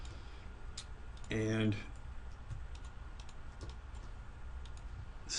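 Computer mouse clicks, a few short sharp ticks scattered across the moment, quiet and close, while working on an image in Rhinoceros drawing software, with a brief bit of speech in between.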